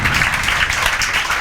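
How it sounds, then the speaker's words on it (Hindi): Students in a classroom clap loudly for a classmate, a brief close burst of dense, continuous applause that stays at one level throughout. "सुदीक्षा नाविक के लिए जोरदार तालियां"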